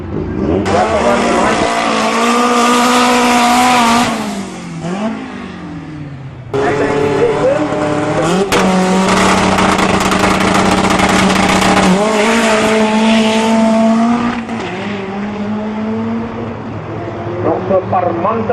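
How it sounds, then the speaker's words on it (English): Drag racing car launching at Tarlton Raceway with wheel spin: a loud, roaring engine at close range, a long screaming run, a brief dip, then another sustained high-revving pass with tire squeal as it fades. "Nog so parmantige spin van die wiele oor na tweede rad toe."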